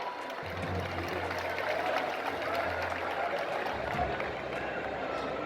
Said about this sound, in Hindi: जोरदार तालियों के प्रणाम मंच तक अवश्य पहुंचाएं